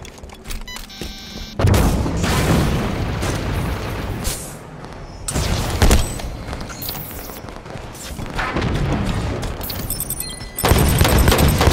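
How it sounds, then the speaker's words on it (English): Rockets exploding against rock in the Halo 5 video game, heavy booming blasts mixed with rattling gunfire in a loud, nearly continuous barrage that surges several times, with no talk heard. "A lot of those rockets hit the rock."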